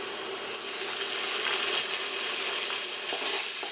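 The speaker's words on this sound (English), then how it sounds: "And fry off the tomato paste a little bit." Tomato paste frying in a pan, a soft steady sizzle and hiss with faint stirring clicks, fairly quiet and with no one talking.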